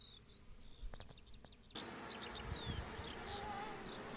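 Bees buzz outdoors in a late spring setting, a steady low hum spread through the clip, while birds chirp and whistle clearly over it.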